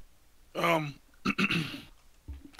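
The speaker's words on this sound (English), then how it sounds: "Clear my throat." A man clears his throat in a few short, rough bursts, a single harsh rasp followed by two quick throaty pulses, close and fairly loud, with a low thump near the end.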